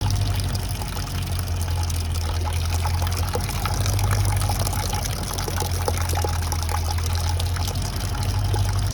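Water gushes steadily out of a Ford F-350 coolant system during a flush, a continuous loud pouring and splashing with a low steady hum underneath and no talking.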